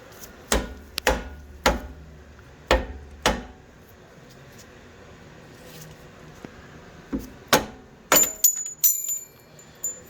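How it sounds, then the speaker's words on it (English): Sharp metallic hammer blows drive out a rear suspension strut rod on a 1984 Chevrolet Corvette C4, in short bursts: several quick hits, a pause, then another cluster of strikes, close and fairly loud. "I might need to be a little persuasive with a hammer to get this rut rod to actually come out."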